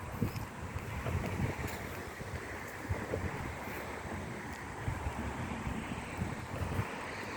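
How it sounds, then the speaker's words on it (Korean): Steady wind blowing outdoors along a red clay barefoot walking path among sunflowers, a continuous rushing gust noise buffeting the microphone, with no voices over it. "바람이 너무 시원하고 좋습니다"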